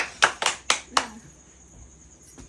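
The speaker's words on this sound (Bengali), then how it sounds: "না এবার আমি নুরজাহানের জন্য আমি বড় করে তালিয়া দিচ্ছি" Four quick, loud bursts of hand clapping ring out close by for a blindfolded woman in a hidden-ball game, then fade into quiet room noise.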